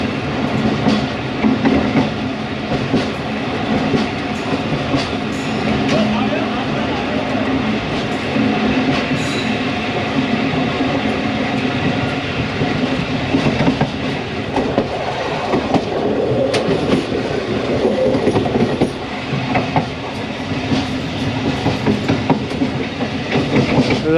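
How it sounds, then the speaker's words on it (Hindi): Karakoram Express, 42 Down, pulling out of Raiwind Junction railway station on Pakistan's main line, a steady loud rumble of wheels with rhythmic clickety-clack over rail joints and occasional squeal, continuous and close for the whole stretch. "42 डाउन कराक्रम एक्सप्रेस पास शुरू हो रही है रायविंड जंक्शन रेलवे स्टेशन से।"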